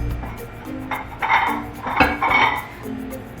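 Luncheon plates from a set of dishes clink and knock against one another as they are handled up close, in a few short bursts of ceramic chinking with quiet pauses between them.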